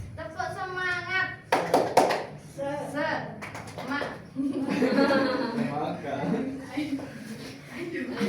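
A school class doing the tepuk semangat clapping chant, with bursts of rhythmic hand claps mixed among children's voices, chanting and chuckles in a classroom.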